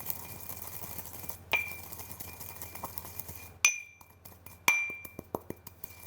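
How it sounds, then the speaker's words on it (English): Spices are worked in a pestle and mortar, with quiet scraping broken by several sharp, ringing clinks as the pestle strikes the bowl, close up and without speech. "I'm gonna grind it in my pestle and mortar"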